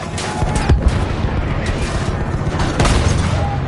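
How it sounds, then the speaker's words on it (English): Dense, loud gunfire fills the scene in the World War I shooter game Battlefield 1, with a machine gun and other weapons firing in a continuous rattling barrage and booms, no voices heard. "Use that machine gun! Mow them down!"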